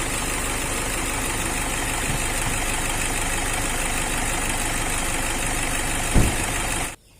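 A steady, rumbling diesel engine of a 2005 Toyota Kijang Innova Type G idles close by for several seconds, then cuts off abruptly near the end, leaving near silence.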